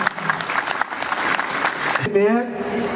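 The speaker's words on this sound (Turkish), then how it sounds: "Başkanımızı bir alkışlayalım." An audience applauding the mayor at an olive oil cooking competition in Mut, a dense burst of clapping that carries on steadily before a voice begins speaking over it near the end.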